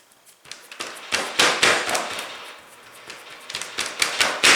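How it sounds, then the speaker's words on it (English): Hands slap and pat shortbread cookie dough flat in a repeated run of sharp, close, irregular smacks, louder in the middle and again near the end, with no voices. "I have to pat this out some more"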